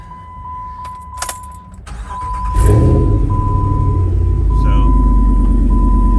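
A 2015 Jeep JK with a VVT truck Hemi and no tailpipe cranks over after some clicks and key noise, then catches into a loud, steady, rumbling idle close by. A short word is spoken just before it starts.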